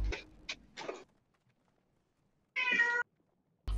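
A cat meows several times nearby in short, separate cries with quiet pauses between them.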